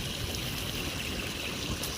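Water running steadily into a catfish pond on a mountain farm, a continuous near splash and trickle that holds at an even level throughout with no voices.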